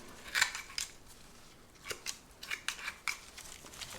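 Scissors trimming old spathiphyllum leaves, a scattering of crisp close snips, one or two early and then a quicker cluster of about five cuts, with no speech.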